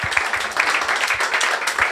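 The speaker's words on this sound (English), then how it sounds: "Can we have a round of applause, please, for the speakers tonight?" An audience at an Inspire'd talk event breaks into a brief, dense burst of applause for the speakers, many hands clapping steadily together.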